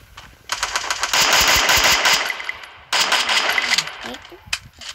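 Rapid automatic gunfire in the video game Free Fire rattles out in two long loud bursts with a short gap between them, close and dominant, followed by a few scattered shots at the end.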